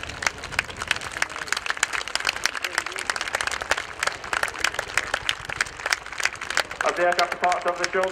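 Crowd applause and cheering at a Royal Air Force air show for the 2015 RAF Chinook display team, steady crackling clapping throughout with an announcer talking over it.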